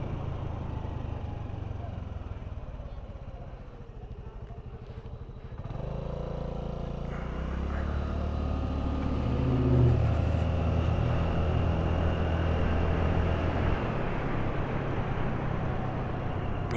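A Honda Navi motorbike rides through city streets past old buildings in Louisville, Kentucky, its small engine a steady close drone that swells and revs midway and carries on under passing traffic and wind.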